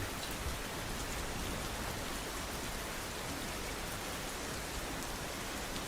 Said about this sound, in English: It's very rainy out here today, people.